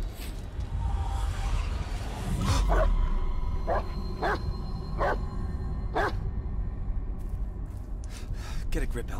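A dog barks in the Blair Witch horror game, several sharp barks spaced across the stretch amid dark ambient game sound, with a voice also present.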